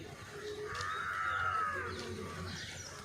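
Birds call outdoors on a Saturday morning where people are cycling, a moderate chirping and cooing that carries on over steady background ambience, with no talk.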